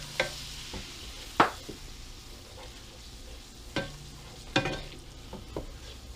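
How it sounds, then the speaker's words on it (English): Melted butter and flour stir together into a roux in a Copper Chef XL casserole pan, with soft sizzling under sharp utensil scrapes and clinks against the pan at irregular intervals. "The butter is melted, and we're going to start turning in the flour a little at a time, and then we're going to keep stirring."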